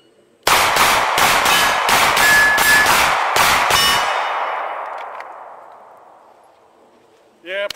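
An FN 509 pistol fires a quick string of about six loud, close shots at a range, and the last report rings out and fades slowly before a brief voice cuts in at the end.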